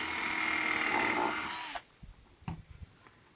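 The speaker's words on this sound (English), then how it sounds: "pre-drilling your holes" A power drill whirs steadily while pre-drilling screw holes in a wooden beehive, then stops abruptly, leaving a few quiet knocks and handling clicks close by.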